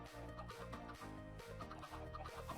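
Chickens cluck close by in a busy flurry of short, repeated calls over a steady background hum, with no talking.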